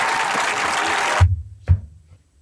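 A short burst of applause from an audience, dense and close, cuts off sharply after about a second, leaving only a couple of low thumps.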